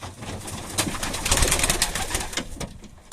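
Pigeons in a loft, young quality birds that are still wild and unhandled, cooing softly amid bursts of rustling and fluttering wings, close by, with no one talking.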